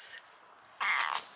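A gentle domestic cat gives a short, fairly close meow, with a quieter bright mew just before it and a brief pause between.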